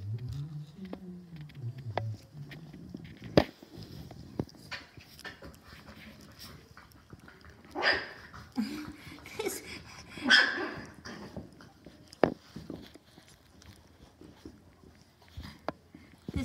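Puppies in a litter whimper, yip and give a few short barks up close, with pattering paws and quiet stretches between bursts, and a person speaking softly now and then.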